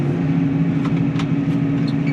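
A T7 tractor engine runs at a steady idle, its low droning hum continuous and fairly close, with a few faint clicks over it.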